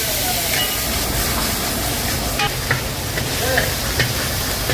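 Fried onions with ginger garlic paste produce a loud, continuous hiss in the pan, with faint stirring clicks throughout.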